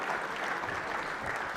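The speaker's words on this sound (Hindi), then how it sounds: "पूरी जोरदार तालियां" An audience at a university quiz show applauds, a dense, steady wash of many hands clapping throughout with no pause.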